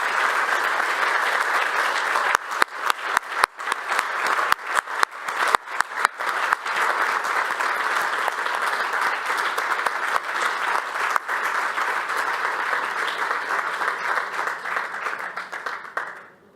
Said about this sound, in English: you deserve a big applause